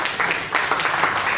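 A church congregation claps together, a loud, dense burst of applause that holds steady throughout with no speech over it.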